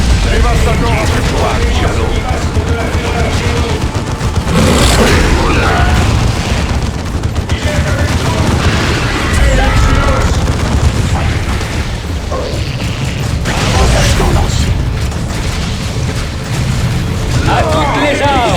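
Gunfire and explosions in the strategy game Dawn of War 2, with dense, continuous booms and bursts of fire at loud, constant intensity, mixed with game sounds.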